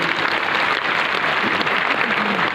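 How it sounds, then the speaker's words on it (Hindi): Applause for Dayanand sir at a motivational business gathering, a dense steady patter of many hands filling the room at moderate loudness, with faint voices mixed in. "दयानंद सर के लिए जोरदार ताली होनी चाहिए"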